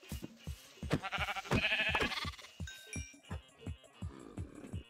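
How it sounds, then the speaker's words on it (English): Sheep bleat in the Minecraft video game: several short bleats in the middle, mixed with rapid clicking and in-game tapping sounds throughout, all fairly quiet. "Oh, there's a little baby sheep."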